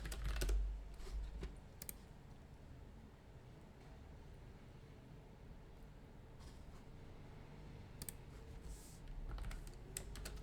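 Code is being typed on a computer keyboard, a faint, steady patter of key clicks that runs through the whole stretch against a quiet room hiss, with a few louder key strikes standing out.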